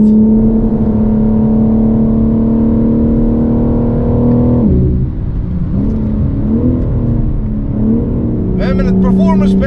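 A twin-turbo inline-six in a 2022 BMW M4 Competition pulls hard and loud, its steady rising drone dipping briefly midway before climbing again, with a voice talking over the end.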